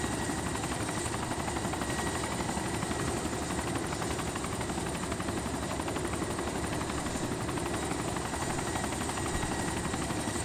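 Helicopter in the survival game DayZ, its rotor and engine drone steady and loud for the whole stretch, a dense continuous wash with no voices over it.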